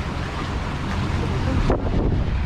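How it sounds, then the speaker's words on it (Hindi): Wind blows in the hills near Nainital, buffeting the microphone with a steady, heavy rumble and rushing hiss that swells briefly near the end. No voices are heard. "वाह, हवा इसे बोलते हैं। ये चल रही है मस्त हवा।"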